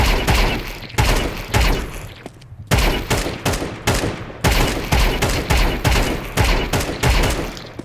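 Rapid bursts of gunfire from Counter-Strike played on Faceit, sharp close shots coming in quick taps and short clusters with brief gaps between them, loud and with no talking.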